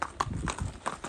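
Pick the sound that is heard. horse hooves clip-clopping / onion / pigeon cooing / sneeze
horse hooves clip-clopping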